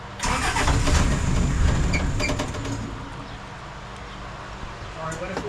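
Car engine cranks and fails to catch, a loud churning starter burst for about two seconds that fades into quieter rumbling, with a short renewed sputter near the end and a voice speaking over it.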